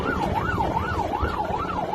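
Wailing siren blares steadily from a Chinese Coast Guard vessel at sea, its pitch rising and falling in a smooth regular cycle over a constant low rumble, loud and close throughout.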